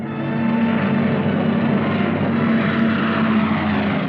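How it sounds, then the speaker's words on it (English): Propeller-driven cargo planes fly over the hump route to China, giving a loud, steady droning roar with a broad rumble that holds without break throughout. "Cargo planes shuttled back and forth over the hump to China."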